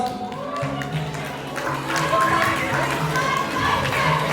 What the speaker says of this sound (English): one last time, give a round of applause